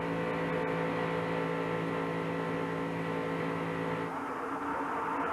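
NASCAR stock cars race in the 1998 Gatorade Twin 125s, their engines a loud, steady harmonic drone. The pitch shifts near the end as the cars sweep past, and no voices are heard.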